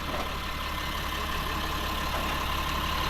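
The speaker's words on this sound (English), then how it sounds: "It runs on diesel, has a Cummins diesel engine" Steady, unbroken drone of an armored SWAT vehicle's Cummins diesel engine idling, even and constant throughout with no voices over it.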